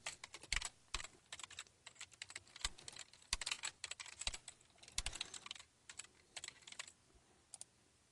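Quiet typing on a computer keyboard, irregular bursts of key clicks with short pauses, close by and without any voice.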